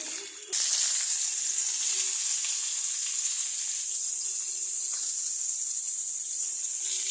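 Paneer frying in a pan, a steady close sizzle and hiss that begins abruptly and carries on evenly throughout, with no talking.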